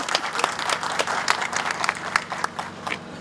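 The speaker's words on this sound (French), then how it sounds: "je vous demande d'applaudir très très très fort" An outdoor audience in Burkina Faso applauds the mayor of the second arrondissement with steady, dense clapping punctuated by a few louder individual claps, with faint crowd murmur underneath.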